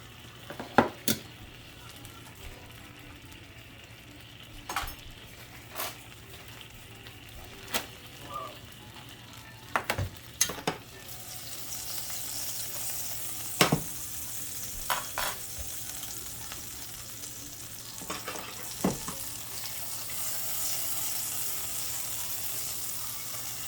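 Butter melts into a hot pan and starts frying, building to a steady, bright sizzle after occasional utensil clinks and taps, heard up close without any talk, while cooking a tortilla chicken pot pie.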